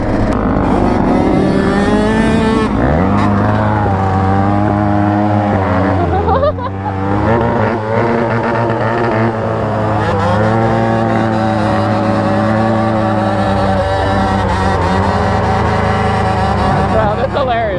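Cars race past at a parking lot, their engines droning loudly and revving with rising and falling pitch throughout, while people talk over the noise.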